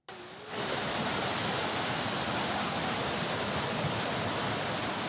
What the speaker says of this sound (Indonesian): Air deras bercampur lumpur pekat serta sampah yang berasal dari pegunungan Kendeng seolah tak terbendung